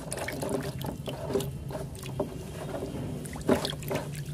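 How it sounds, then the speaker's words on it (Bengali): White peony tubers are washed in water with soft splashing and sloshing, quiet and close, with a few small clunks and water movement throughout and no speech. "এগুলোকে ধোয়া হচ্ছে।"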